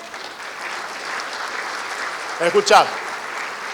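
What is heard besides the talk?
audience applause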